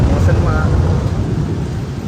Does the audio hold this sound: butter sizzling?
no